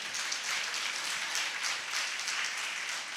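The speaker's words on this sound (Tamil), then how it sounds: "கைத்தட்டி கடவுளுக்கு நன்றி செலுத்துங்க." A church congregation applauding in thanks to God during a Tamil sermon, a steady wash of many hands clapping at moderate distance without a break.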